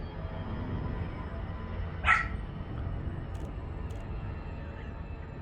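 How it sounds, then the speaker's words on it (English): A dog gives a single short, fairly faint bark indoors, standing out once against a steady low background hum. "my dog wants to go outside and I think I need to do that"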